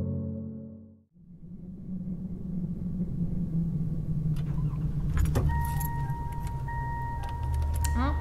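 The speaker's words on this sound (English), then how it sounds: "Put your seatbelt on. Dinging sound." Keys jangle over a car's low rumble, then a steady seatbelt warning chime rings out in repeated tones in the intro of a pop song, close and clear.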